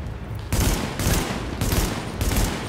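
Gunfire rattles in Tom Clancy's The Division on PS4 inside a shopping mall, arriving as loud repeated bursts about every half second, close and harsh with no talk over them.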